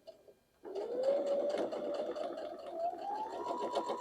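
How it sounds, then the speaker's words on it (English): A sewing machine runs steadily, stitching fabric pieces for half square triangles, starting abruptly after a brief quiet moment and whirring continuously with a rising motor pitch, close and fairly loud. "And then we're going to sew down this one as well."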